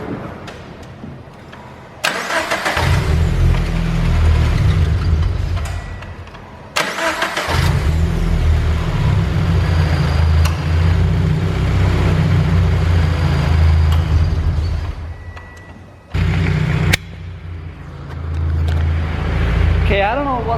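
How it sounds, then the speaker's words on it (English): A 2015 Subaru BRZ engine cranks and catches several times, roaring into a loud idle between restarts, with brief talk in the pauses, after starter replacement. "quickly gonna start up the car so you guys can hear a little bit about how it sounds when it starts"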